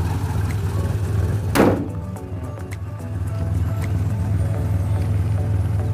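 A 1990 Daihatsu Katana Corsica with power steering sits running, its engine giving a steady low idle throughout, briefly interrupted by a sharp knock or thump partway through.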